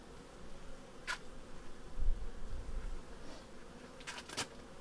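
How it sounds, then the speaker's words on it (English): Honey bee guard bees buzz around a beehive, brief zipping passes of individual bees flying close by over a low outdoor rumble. "Still a few guard bees that are a bit annoyed with me because I've not left and I'm stood right in front."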